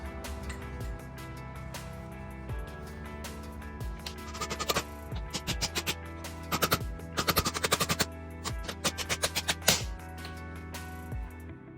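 Repeated sharp metal impacts from hammering a new bearing into a Toyota Tacoma pulley, coming in quick clustered bursts of strikes, loud and close, with no talking.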